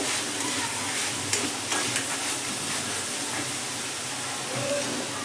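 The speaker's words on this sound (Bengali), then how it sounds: "চাট মশলা দিয়ে নেড়ে নেব" Chole chaat being stirred in a pan with chaat masala, a soft continuous sizzling hiss with a few faint scraping stirs and light clicks, fairly quiet and steady throughout.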